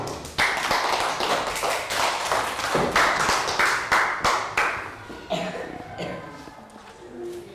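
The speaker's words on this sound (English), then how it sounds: "Round of applause for Dan." A classroom round of applause for a pupil: a series of sharp, rhythmic claps, close and loud, that loosen and thin out toward the end.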